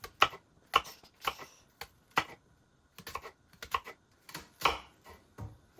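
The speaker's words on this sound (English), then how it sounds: "Okay, so I'm just going to cut from the center." A knife cuts through a jackfruit on a kitchen board, making a series of sharp, irregular close taps and crunchy slicing clicks separated by short silences.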